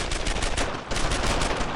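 Dense gunfire from a World War II firefight behind German lines in Brothers in Arms: Earned in Blood, a loud, continuous barrage of overlapping shots with a brief dip near the middle, with no talk.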